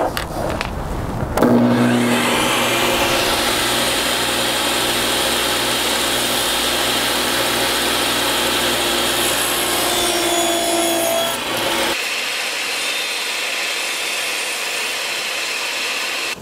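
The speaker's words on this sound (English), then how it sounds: "Okay, I got a Bosch table saw that is portable." Bosch portable table saw cutting wood trim, a loud steady whine with a bright cutting rasp that runs about ten seconds after spin-up, then drops to a softer run-down hum near the end.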